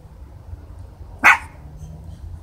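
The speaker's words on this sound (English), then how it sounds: "They are barking because they see another little dog coming across the street" A small dog lets out a single sharp bark, close and loud, over a quiet low background hum.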